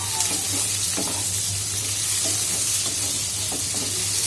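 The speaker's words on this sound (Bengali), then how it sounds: "পেঁয়াজ দিয়ে দিব, তেল গরম হয়ে গেছে।" Onions fry in hot oil in a frying pan for chicken rezala. The loud, continuous sizzle is broken now and then by soft stirring scrapes, close up and with no talking.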